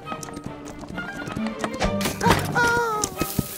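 Clip-clop of horse hooves on a road, steady and fairly close, with a horse whinny and other sounds layered over it, in a children's cartoon.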